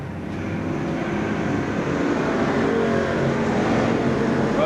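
Race cars lap the Seekonk Speedway oval at a 1994 season finale, a continuous loud roar of engines droning steadily throughout with no pauses.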